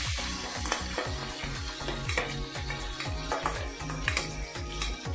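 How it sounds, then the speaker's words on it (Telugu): Dried red chillies, fenugreek seeds and crushed garlic frying in oil on a low flame for munagaku pappu, a loud continuous sizzle with repeated stirring scrapes and clinks against the pan throughout. "మాడనివ్వద్దు, అటు ఫ్లేవర్ పోనివ్వకుండా కొంచెం లైట్ ఫ్లేమ్ మీద అలా వేయించుకోండి"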